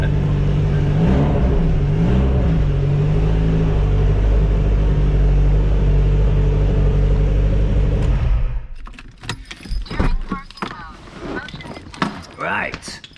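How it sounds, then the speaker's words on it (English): A Lotus car engine idles loudly and steadily after a cold start, a deep continuous rumble close by that cuts off partway through, followed by clicks, jangling keys and brief talking. "Let's have a cold start"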